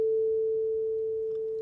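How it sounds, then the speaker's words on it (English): Two pure sine tones set 1 hertz apart merge into one steady electronic hum that slowly fades in loudness over under two seconds, clean and alone with no voices. "now we're going to listen to what it sounds like to hear the beat frequency"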